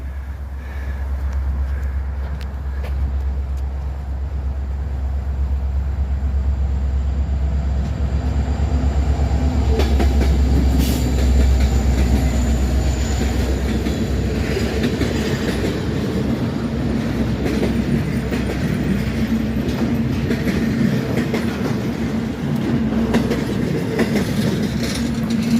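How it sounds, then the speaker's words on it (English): A train passes close on a railway near an abandoned spur bridge, with a deep rumble building into rhythmic clickety-clack of wheels over rail joints, sustained and loud throughout with no speech. "Looks like we're gonna get a strange view here, but we got a train."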